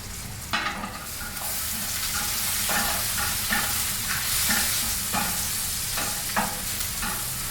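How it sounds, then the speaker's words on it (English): Garlic and shallot sizzle in a hot pan beside a drum smoker, frying steadily with a continuous hiss while a utensil scrapes and stirs in repeated short strokes, close and fairly loud, with no talking. "Now we add garlic now. Garlic's going to cook quicker than the shallot"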